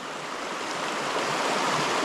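Steady, loud rush of water pouring through a gold sluice box at a creek in Northern California, a continuous broadband roar that holds even and slightly swells across the whole stretch, with no voices over it.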